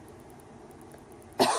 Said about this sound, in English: Can't help it. It's cough.